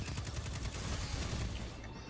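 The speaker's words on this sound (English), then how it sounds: "Two assault rifles." Assault rifles in the shooter game Destiny 2 fire in a dense, rapid, continuous burst, a steady crackling barrage of automatic shots that fades out at the end. No voices can be heard.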